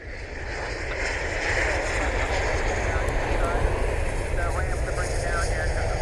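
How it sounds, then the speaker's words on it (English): Aircraft engine noise at Cleveland Hopkins International Airport, a steady broadband roar holding at an even, fairly loud level throughout, with people talking over it. "It's a neat aircraft."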